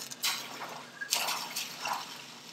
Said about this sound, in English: I'm simply going to add these into my boiling water now.